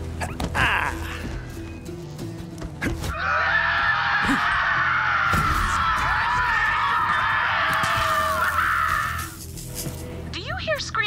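Screaming in the Borderlands 3 video game, a sustained harsh shriek lasting several seconds, loud over game noise, with talking heard before and after it.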